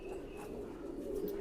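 Pigeons kept by a fancier, including Z47 and MA3 flying pigeons, give soft, low cooing that hums on continuously at a faint, steady level, with no voices.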